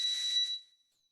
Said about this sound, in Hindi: ये जो एनसी पॉइंट वाला कैपेसिटर है यहाँ से बीप कर रहा है